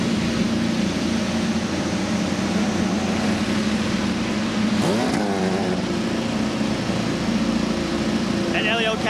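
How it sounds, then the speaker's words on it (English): IndyCar race car engines at the Houston Grand Prix start and rev, a loud mechanical drone with a rising rev in the middle and a race commentator talking over it. "Gentlemen, let's have some fun and start your engines."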